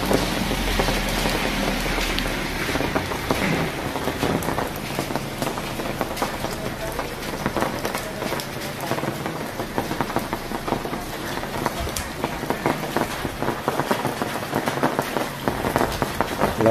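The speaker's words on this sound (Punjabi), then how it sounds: "ਕਿੱਦਾਂ ਵਧੀਆ ਮੀਂਹ ਪੈ ਗਿਆ" Steady rain pours down in a dense, even hiss of drops striking surfaces, continuous and fairly loud throughout.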